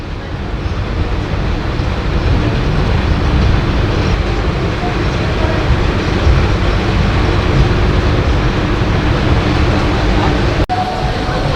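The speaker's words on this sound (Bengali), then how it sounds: "মাঝঘাট স্টেশনে ট্রেনটা ঢুকলো" A local train on the Sealdah to BBD Bag line pulls into Majerhat station, its loud, steady rumble filling the whole stretch without a break until a brief dip near the end.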